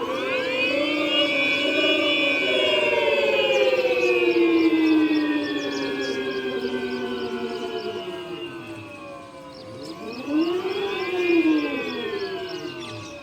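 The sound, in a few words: Ola S1 Pro electric scooter mood sound in eclipse mode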